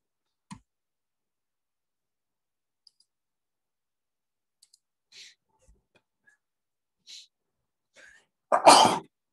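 One sharp, loud sneeze comes near the end after mostly silent seconds holding a few faint clicks and small noises.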